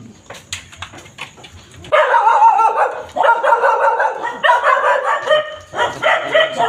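Several dogs bark repeatedly nearby, sharp overlapping yaps in quick bursts, with a few whimpers and some clicking between.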